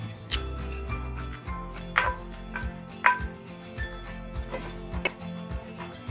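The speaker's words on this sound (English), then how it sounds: "keep stirring it while you're roasting it" Mawa being roasted with ghee in a pan for til gud barfi, stirred with a spoon: soft repeated scrapes and taps against the pan at an irregular pace, close, over a low steady hum.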